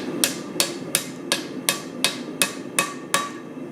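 A hammer strikes hot metal while a small handmade garden tool is forged, landing about nine sharp, evenly spaced blows with a ringing metallic tail, close and loud with no talking.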